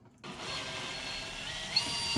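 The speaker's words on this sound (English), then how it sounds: "So we'll go ahead and remove those screws, and that'll give us access to the hinged plastic part here." A screwdriver works screws out of the plastic hinge cover on a Dometic RV fridge, a close, steady mechanical whir after a brief silent start, with one small click near the end.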